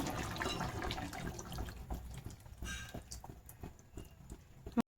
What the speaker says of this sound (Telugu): తీసుకున్న చింతపండు అయితే ఉంది కదా గుజ్జు, అదైతే పోస్తున్నాను ఇప్పుడు